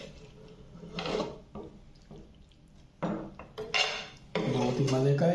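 Cooked chicken macaroni pasta being served from a pot into a dish, with metal spoon scrapes and clinks against cookware in irregular bursts, close and moderately loud, with soft sticky shuffling of pasta between.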